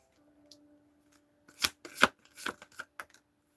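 Tarot cards are shuffled by hand close up: a brief tap, then a quick cluster of four or five sharp riffling bursts, with quiet in between.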